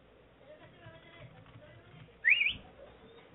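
A caller on a talk radio phone line whistles a single short rising note, narrow and telephone-thin, over a low murmur of background noise.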